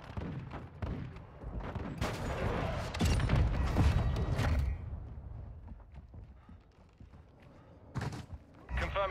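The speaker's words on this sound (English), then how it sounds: "Request an airstrike at this location." An airstrike lands in the Call of Duty: Modern Warfare II video game: a run of sharp gunfire cracks gives way to a heavy, rumbling blast lasting a couple of seconds, then more scattered shots follow, with radio-style voices talking in between.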